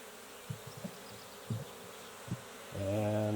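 Honey bees buzz softly around Langstroth hive frames, with faint intermittent buzzing and light handling bumps, then a closer, steadier drone from a bee near the ear.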